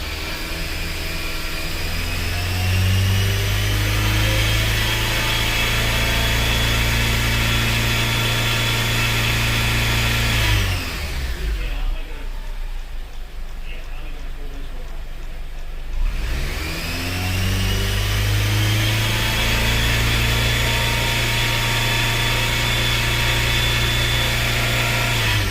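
A 2003 Honda Element's 2.4L AWD engine, with no VTEC and a P2646 fault, is held steadily above 3,000 RPM in a loud, even drone that briefly sags midway before recovering.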